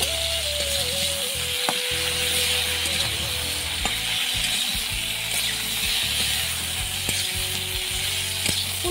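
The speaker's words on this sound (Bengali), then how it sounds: "ফুলকপিগুলো আমি লাল করে ভেজে নিই।" Cauliflower florets frying in plenty of oil in a home kitchen, a steady close sizzle with occasional stirring clinks and scrapes, no talk.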